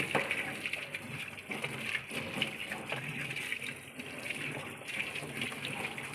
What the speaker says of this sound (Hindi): अब हम कुछ उसके अंदर मशीन में ठंडा पानी डाल दिया